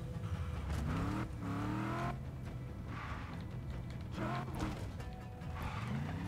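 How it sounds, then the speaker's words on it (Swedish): An in-game car is driven in Just Cause 3 on PC, its engine note rising and falling as it revs and accelerates, loud and continuous from start to finish. "Oj vad det är svårt att styra bil i det här."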